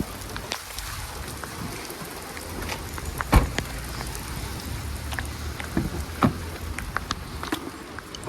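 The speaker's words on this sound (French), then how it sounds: "il commence à beaucoup pleuvoir" Heavy rain falls outdoors after a pallet delivery, a steady dense patter with scattered louder drops and splashes, close and continuous, with no voices.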